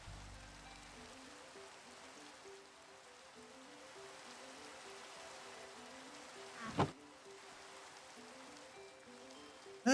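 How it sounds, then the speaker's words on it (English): Steady rain falls in Minecraft survival play as a soft, even hiss, with a faint game tone pattern and a couple of brief louder blips near the middle and end. "Rain is usually so peaceful, but in Minecraft I think it is raining totally just too much."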